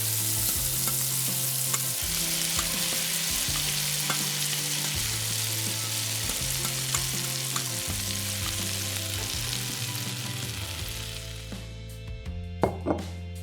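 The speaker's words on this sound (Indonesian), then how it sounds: "Cepat tumis sayurannya." Vegetables stir-fried in oil in a tiny miniature kitchen give a steady bright sizzle throughout, under stepped background music, fading out near the end.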